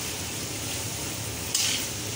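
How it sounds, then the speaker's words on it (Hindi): Rice frying with black pepper, red chilli, salt and garlic-ginger paste sizzles steadily in a pan at close range, with a soft stirring scrape and one brief sharper clink partway through. "इसको हम थोड़ा सा भूनेंगे।"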